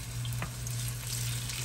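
Meatballs fry in a pan with a steady, close sizzle under a constant low kitchen hum, broken once by a brief stir or clink, with no voices.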